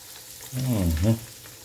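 Breaded chicken breast, wrapped in Black Forest ham and stuffed with cheese, corn and mushrooms, goes into hot oil and gives a brief close sizzle that swells for about half a second and then settles.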